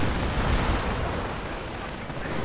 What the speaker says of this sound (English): Panther goes down in an incendiary explosion.